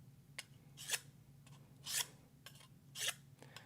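Knife blade drawn repeatedly across a sharpener, leaving white residue; four rough rasping strokes about one second apart, close and fairly loud, with no talk.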